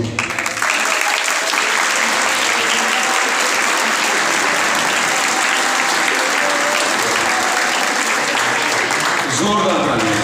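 Loud, dense applause from a congregation at a New Year night Mass after the 2023 cake cutting, sustained and near for about ten seconds.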